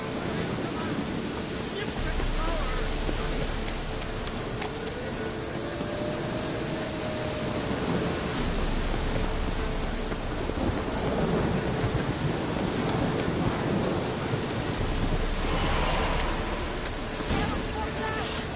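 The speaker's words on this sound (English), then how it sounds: "The storm, damn it." A thunderstorm in The Witcher video game rumbles continuously, with heavy rain and deep rolling thunder filling the space loudly and steadily throughout.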